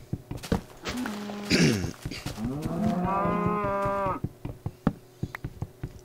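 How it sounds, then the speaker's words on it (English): Minecraft cows lowing amid clicking footsteps, a short moo early on, then a long sustained moo, with crisp game step ticks before and after and no voices. "Cows, pigs, everywhere."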